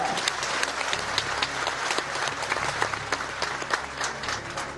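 A large crowd at a Maratha community rally claps loudly and continuously, a dense, steady wash of applause with no pauses and no voices standing out.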